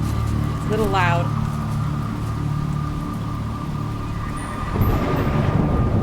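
A continuous hiss of rain falls in the Jenny LeClue video game, steady and moderately loud with a low rumbling bed, a short warbling tone early on and a slight swell of downpour toward the end.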